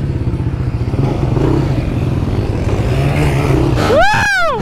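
Four-wheeler ATV engine revving hard and steadily close by, a rough motor drone with clatter, then a rising and falling whine near the end as it struggles through a gear change.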